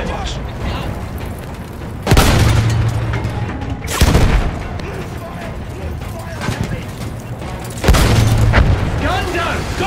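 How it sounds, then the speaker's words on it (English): Field gun firing in the Battlefield 1 video game, three heavy booms spaced a few seconds apart over a constant din of battle noise, with shouting voices throughout. "Field gun!"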